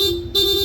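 A PIA aftermarket horn fitted to a Honda ADV160 scooter sounds in rapid mode, a loud, steady two-tone blare that dips briefly near the middle and then comes back strong, with no voices over it.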